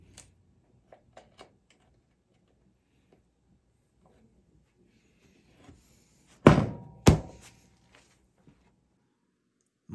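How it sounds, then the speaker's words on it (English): A C-clip snapping into place on a 1975 Harley-Davidson SX250 motorcycle gives two sharp metallic clicks close together, with a few faint taps before them in an otherwise quiet workshop. "Just gotta put the C-clip on and we are good to go."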